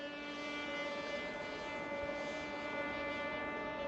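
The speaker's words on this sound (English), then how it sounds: "So at full throttle, let's see how fast it climbs vertically." A cheap RC plane climbs vertically at full throttle, its motor holding a steady, even high whine with no break from start to finish.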